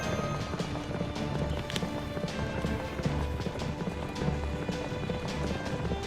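A fairy horse gallops while pulling a carriage in the video game Fate/Grand Order, its hooves clip-clopping in a steady, fast rhythm over continuous rumbling wheel noise for several seconds.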